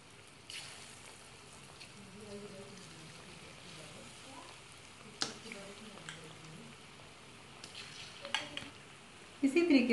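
Chicken pieces go one by one into a pan of oil heated on normal heat, giving a steady broadband sizzle that swells with louder crackling bursts near the end, while a voice talks over it.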